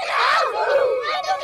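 A crowd of kids shouts a quick, high-pitched cheer together at a youth football league event, loud and close, a brief burst of overlapping voices lasting about a second and a half.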